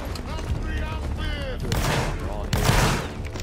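Scattered gunfire in a video game, with bursts of shots and blasts under radio chatter and talking voices, at moderate level and somewhat distant.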